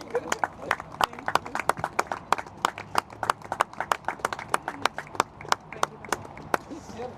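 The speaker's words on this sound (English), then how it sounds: "Please, big round of applause again for the sponsor, Dipusa Kesi from Delhi Fresh." Scattered hand clapping from a modest crowd at a cricket grand final sponsor presentation, uneven individual claps continuing steadily for several seconds at moderate distance.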